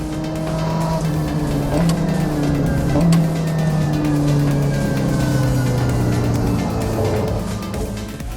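A race car driven by Alessandro Zanardi downshifts through a hand-pulled trigger, its engine note dropping in steady pitch steps while tires squeal, loud and close for the whole stretch.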